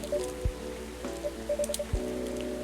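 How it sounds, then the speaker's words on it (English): Steady rain patters in the video game Coffee Talk 2. The soft wash sits beneath gentle sustained musical tones, with two dull low thumps along the way. "it was raining as hard as it is now"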